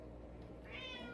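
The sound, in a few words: cat meowing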